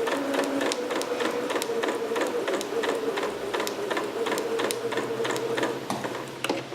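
Domestic sewing machine stitching a Vogue 8280 garment just inside an earlier stitch line, a steady near whirring with fast regular ticks running unbroken throughout.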